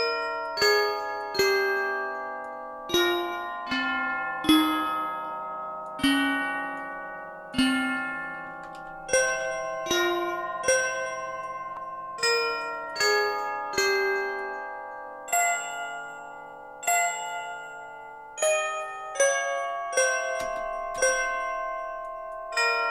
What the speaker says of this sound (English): Maybe like a nice FM bell in here or something.